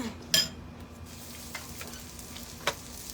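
Cabbage frying in a pan gives a soft, steady sizzle, with a couple of sharp utensil clinks against the pan, close by and without talk.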